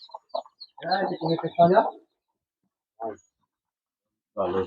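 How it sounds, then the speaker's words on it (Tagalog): Native farm chickens and a Rhode Island Red rooster cluck in short bursts, close and fairly quiet, with pauses of silence between calls. "Ito isa sa rooster natin na uh, Rhode Island Red."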